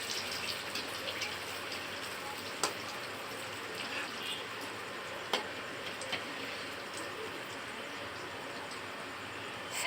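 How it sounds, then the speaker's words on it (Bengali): Chicken pakora pieces in an egg coating deep-frying in oil give a steady close crackling sizzle throughout, with a few sharp utensil clicks and no voices. "এটা ডিম দিয়ে ভাজা হচ্ছে চিকেন পকোড়া।"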